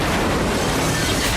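A plane crash explosion in the 1997 action film Face/Off: a loud, continuous broadband roar filling the whole moment without pause, then cutting off abruptly at the end, with no voices.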